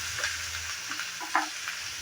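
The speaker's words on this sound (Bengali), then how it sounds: "পেঁয়াজটাকে ভালোভাবে ভেজে নেব। যতক্ষণ কালারটা চেঞ্জ না হয় ততক্ষণ অবধি নেড়ে চেড়ে ভেজে নেব।" Chopped medium onion frying in a pan while being stirred, a soft steady sizzle with a few light scraping stirs, close and alone.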